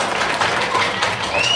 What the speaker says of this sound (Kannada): ಬರ್ಲಿ ಒಂದು ಚಪ್ಪಾಳೆ